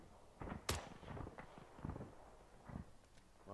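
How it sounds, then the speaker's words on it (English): Gunfire in a first-person shooter video game: several distant single shots and short bursts crack out faintly across the clip, spaced irregularly under low background noise. "be careful with your gunfire"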